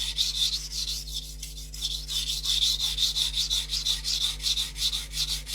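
A steel blade is pushed back and forth over a coarse sharpening stone in a steady, rasping grind, close and even, with strokes rising and falling roughly twice a second and no voice.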